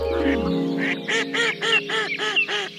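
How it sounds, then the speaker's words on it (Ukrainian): A duck quacks repeatedly in a steady series of loud, nasal calls, close up, after a brief low hum at the start. "закричала качка"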